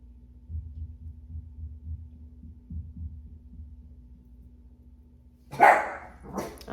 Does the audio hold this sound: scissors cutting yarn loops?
no